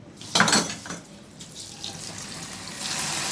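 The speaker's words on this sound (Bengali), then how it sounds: "এখন আরেকবার ধুয়ে নিচ্ছি যাতে শাকের যে পানিটা থাকবে সে পানিটা দিয়েই আমি রান্না করব।" Leafy greens are rinsed under a running kitchen tap, with close splashing water and clinks of a pot or bowl in the sink. The flowing stream builds steadily toward the end.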